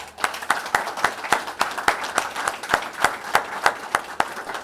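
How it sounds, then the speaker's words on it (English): Applause at a ribbon-cutting ceremony for Revere Copper, a steady patter of many hands clapping with regular louder claps throughout, fairly close and with no voices over it. "Round of applause for them."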